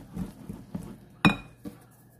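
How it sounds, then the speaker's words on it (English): A whisk taps and clinks against a bowl while brownie mix is stirred, a handful of separate knocks with one sharper metallic ring near the middle, close and with no talking. "And now I'm just gonna go ahead and give this a nice whisk."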